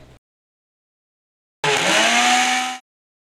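A kitchen mixer grinder blends pulses and pepper for Pirandai thogayal, a loud, steady whirring roar lasting about a second, after a brief faint sound and a silent gap.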